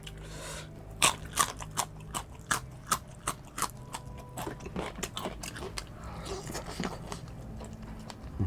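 Crunchy, dry clean-eating food is chewed inside a car: a burst of sharp, close crunches gives way to softer, steady chewing, with no talking.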